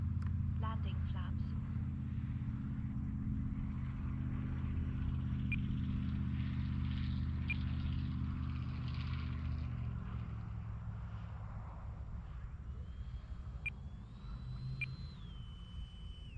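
An E-flite Viper model jet drones steadily from near to far as it comes in to land, fading gradually, with a voice talking over it and a few faint beeps toward the end.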